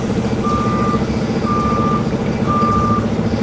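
Dump truck backing up on a roll-off job site, its reversing alarm sounding three evenly spaced steady beeps over a loud, constant diesel engine rumble, with no voices.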